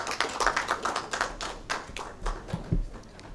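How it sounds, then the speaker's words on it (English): Round of applause for a government minister at a Uganda–DR Congo business summit press conference: a few seconds of uneven, moderately close hand clapping with sharp individual claps and thumps, fading toward the end. "I think he deserves another round of applause"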